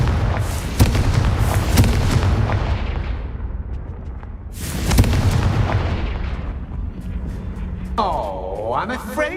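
Confringo fire spell in Hogwarts Legacy, a run of booming blasts with two heavy impacts and crackling rumble between, loud and near, ending in a swirling magical whoosh.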